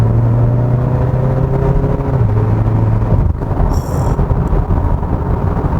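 A Hyundai Sonata N Line 2.5 turbo pulls hard from inside the cabin with active engine sound off, a deep droning roar rising in pitch and then shifting gear, loud and continuous.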